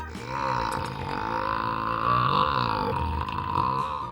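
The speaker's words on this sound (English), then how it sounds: "making the biggest burp" A single long, loud burp rolls on continuously for about four seconds, deep and throaty, with nothing else around it.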